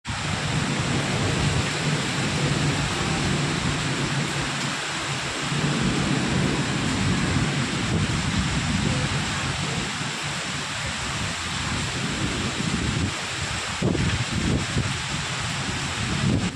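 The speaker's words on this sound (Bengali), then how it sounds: "তোমাদেরকেও এই বৃষ্টিটা শেয়ার করাবো" Steady rain pours through a dark night storm with low rolling thunder rumbling underneath, a dense continuous wash of sound close by without any voices.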